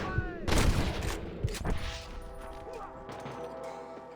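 Gunfire in the video game Red Dead Redemption 2: a loud, close volley of shots crashes out, followed by a second burst, then fades into ringing tones and quieter clatter.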